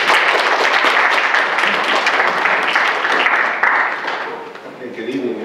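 An evening lecture audience gives a warm round of applause for a visiting construction professor, sustained dense clapping that thins and fades toward the end.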